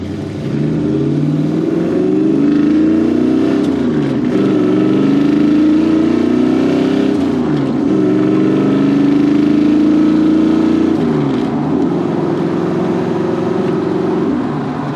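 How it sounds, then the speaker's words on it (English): A 1966 Ford Mustang restomod's engine drones loudly and steadily, rising in pitch through repeated accelerations up to fifth gear with brief dips between gear shifts. "The engine purrs. It's very, very nice. Back on the gas, back out on the street."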